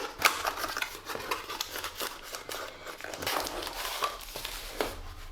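Packaging of a Fintie tablet case for the Amazon Fire HD 10 being opened, with close, irregular crinkling, tearing and rustling bursts of plastic and paper throughout, no talking.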